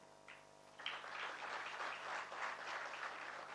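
Applause from a ceremony audience welcoming teams at a stock exchange listing ceremony for Aye Finance, a sustained crowd clapping that swells after a quiet start and keeps a steady, fairly loud level throughout.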